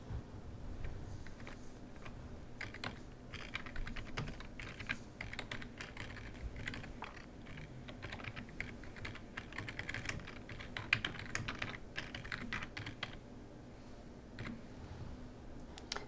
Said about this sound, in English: Now I want to type in the title for my chart